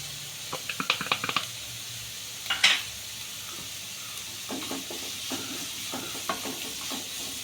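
Green chillies and curry leaves sautéing in a pan: a soft sizzle with a brisk flurry of stirring clicks, one sharper hiss-like burst, then quieter scattered stirs, close but fairly faint.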